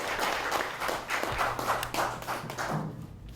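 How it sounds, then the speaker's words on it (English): Sparse, uneven clapping from an audience at an evening talk on traditional knowledge, close and moderately loud, with a low steady hum beneath and the claps thinning out toward the end. "Let's give Mr. Emma Charles a round of applause."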